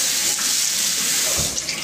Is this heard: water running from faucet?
yes